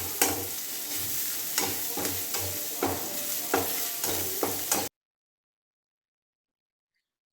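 Beef fry with bay leaves is stirred in a pan, a steady sizzle broken by regular spatula scrapes and taps against the metal, ending abruptly in silence after about five seconds.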